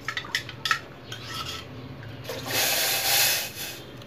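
Ragi flour being stirred into a pot of boiling water on a stovetop, with a utensil clinking and scraping against the pot in short bursts, then a rising hiss of bubbling water.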